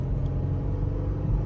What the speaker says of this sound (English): You should be able to hear the engine just a little bit